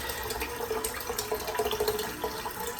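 Water runs steadily from a tap into a sink while shaving soap lather is worked up, a continuous close splashing flow with small bubbling variations and no voices.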